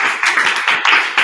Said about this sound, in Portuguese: ahora sí, un aplauso!